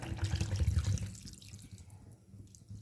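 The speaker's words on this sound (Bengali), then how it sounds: "এর ভিতরে আমি এবার একটু হালকা পরিমাণ মতন জল দিয়ে দেবো" Water is poured into a pan holding fish on the stove, a close splashing trickle that runs loud at first and then thins to a faint dribble.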